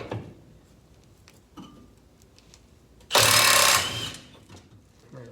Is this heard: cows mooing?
no